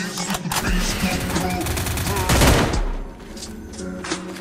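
Dense bursts of automatic gunfire from a mobile battle royale game, loud and continuous with a heavy blast in the middle before easing off into scattered shots.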